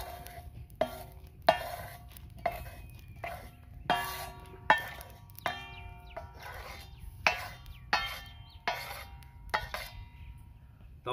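Boneless chicken chaap cooking on a hot tawa, with a soft sizzle beneath regular metallic scrapes and clinks of a spatula turning the pieces, close and without talk.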